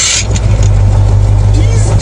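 A truck engine with a manual gearbox drones at a steady low pitch, loud and close, with no clear rise in revs.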